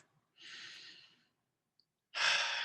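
Two slow, airy breaths taken during a guided relaxation exercise, a soft inhale followed by a longer, louder exhale after a short pause, close and with no talking.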